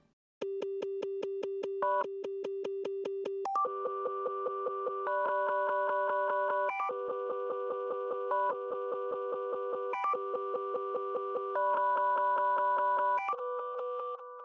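A Serum synth key is chopped and stuttered by a ShaperBox preset into a rapid, gated pulse of bright electronic tones, shifting pitch in steps over a steady repeating rhythm, with no voices.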